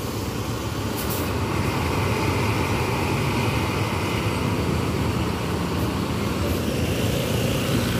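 Intercity buses from West Sumatra arriving at a busy roadside stop amid traffic: a steady, loud engine and road roar that holds evenly throughout, with no talk.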